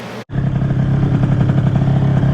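Yamaha Aerox scooter engine fitted with a Polini speed drive pulley, revving on a test run: after a brief cut, a loud, close, steady buzzing drone with a fast pulsing rhythm that holds throughout.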